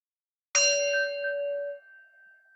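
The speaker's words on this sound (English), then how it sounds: "taking the sound of the bell," A single bell struck during a gentle Kripalu yoga practice rings out clearly and alone, its bright, steady tone lingering and slowly fading into silence.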